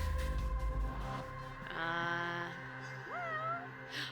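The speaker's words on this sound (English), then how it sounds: "There's a cat." A cat meows in the video game Judgment, a clear rising and falling call with a second higher cry near the end, heard over a steady game background score.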